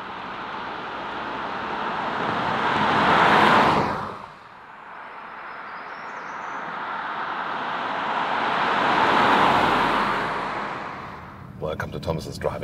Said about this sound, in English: And we start here with a little urban driving